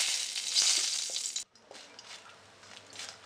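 Green chillies sizzle and fry in hot oil in a pan for a Bengali fish khatti with mango, a loud bright crackle that cuts off sharply partway, then settles into a quieter steady sizzle with light stirring.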